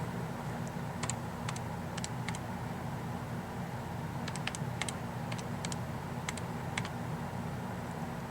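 Someone keys a long entry into a calculator keypad, producing a faint run of quick, light clicks in irregular bursts over a soft background hiss.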